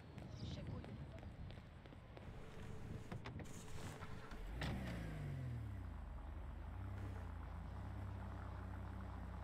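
A car engine in a GTA roleplay game idles and hums low, with mechanical clicks and a whirring rise, then settles into a steady droning rumble; people talk over it.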